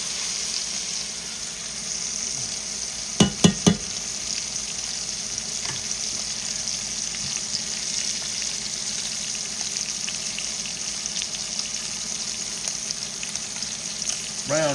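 A bone-in ribeye roast browns in a pan with a constant close frying hiss. A short cluster of clattering knocks comes early, and no one speaks.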